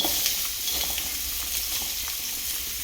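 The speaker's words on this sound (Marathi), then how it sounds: "सगळ्यात पहिल्यांदा मैत्रिणीनं आपण कांदा परतून घेणार आहे" Onion sautés in ghee in a pan, making a continuous moderate sizzle and crackle with light stirring throughout and no voices.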